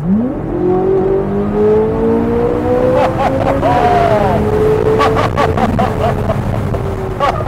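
A Corvette Z06 engine with an Eventuri intake and Paragon Performance exhaust revs and rises steadily in pitch, loud and close, with a brief dip and climb again as it downshifts.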